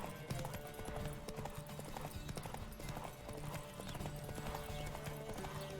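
A horse gallops in The Witcher 3 video game, with rapid, continuous hoofbeats and clip-clop loud and close throughout, along with faint game ambience.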